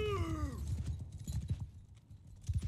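Cavalry hooves clop in the Mount & Blade II: Bannerlord video game, an irregular thudding trot with a horse's whinny at the start, moderately close.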